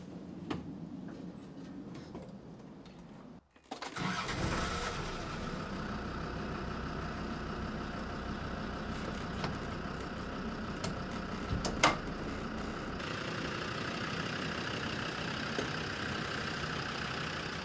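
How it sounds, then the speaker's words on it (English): A car engine idling steadily after being restarted, a continuous mid-pitched hum with faint ticking, preceded by a brief dip around the restart. "I just tried the engine again,"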